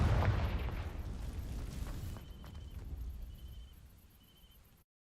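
A Confringo spell explodes in Hogwarts Legacy with a loud, close, booming blast that rumbles low and decays over several seconds, with faint chiming tones lingering before it cuts to silence.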